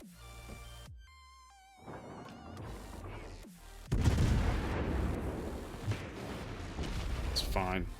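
A Tier X British cruiser, HMS Goliath, fires a salvo in World of Warships: a loud broadband blast erupts midway and rolls on as a long rumbling tail after quieter game tones.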